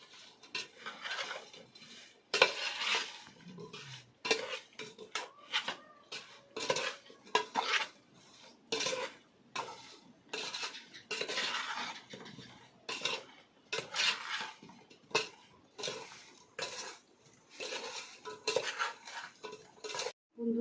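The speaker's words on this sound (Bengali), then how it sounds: "আমগুলো মশলার সঙ্গে ভালোভাবে মাখিয়ে নিয়েছি" Mango pieces being mixed with pickle spices in a bowl, repeated soft scraping and clinking of a spoon against the vessel in an irregular rhythm, close and fairly quiet.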